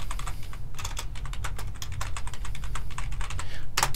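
Rapid typing on a computer keyboard, a close, continuous clatter of key presses with an uneven rhythm, ending on a sharper key strike.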